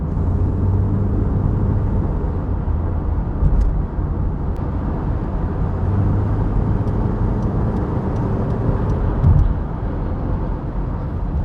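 Inside an automatic Vauxhall Cavalier Mk2 CDi accelerating on a motorway, a steady low engine drone and road roar hold throughout, with faint clicks and brief thumps over the hum.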